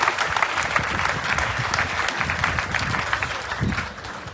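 A church congregation at the funeral of an apostle breaks into sustained, loud applause, dense clapping from a large crowd that carries on for several seconds before easing slightly at the end.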